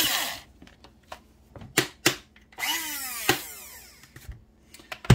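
An electric coffee grinder whirs in short, loud bursts as it grinds coffee beans, each pulse spinning up with a rising whine and cutting off, with brief gaps and clicks between them.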